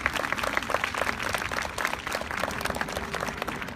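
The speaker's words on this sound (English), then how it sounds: "we should clap." Audience at an American Cancer Society speech event claps together, a steady patter of many hands at moderate distance, continuous for a few seconds with no talk over it.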